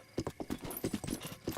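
Hooves of a horse in the game Breath of the Wild clatter in a quick galloping rhythm, a short burst of crisp thuds at moderate volume with no talk over it.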